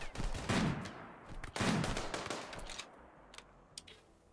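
Sniper gunfire in the Rimworld video game: two loud, close shots about a second apart, each with a booming tail, followed by a few fainter scattered pops as the noise settles.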